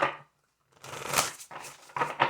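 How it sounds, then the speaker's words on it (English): A deck of tarot cards is shuffled in a few quick riffling bursts, close and soft, with brief pauses between them. "2 more shuffles."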